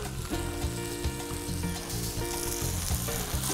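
Tender onions fry in a paella pan, giving a brief, steady close-up sizzle with light stirring clatter and no voices.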